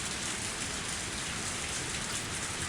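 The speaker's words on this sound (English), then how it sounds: "The sound of falling raindrops was fierce" Heavy rain from a visual novel game pours down in a dense, steady hiss, loud and unbroken throughout with no voices.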